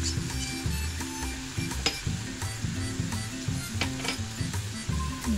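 Masala with chili powder and turmeric is stirred and fried in a pan for Bengali pomfret fish jhal, a steady sizzle with repeated scraping and clinking of the spoon against the pan, close and continuous.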